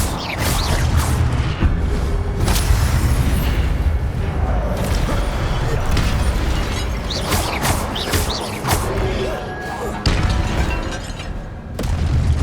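Spell effects and magical bursts from the video game Hogwarts Legacy, a steady dense wash of booms, pops and rumbling impacts over twelve seconds, with occasional sharper cracks and no clear talk.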